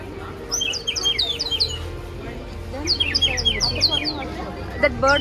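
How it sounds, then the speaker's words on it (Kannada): Bird-call sound effect at a college Karnataka Rajyotsava fest, a rapid series of bright chirps and tweets in two bursts over a steady background hum, with crowd babble underneath. "that bird sound will come"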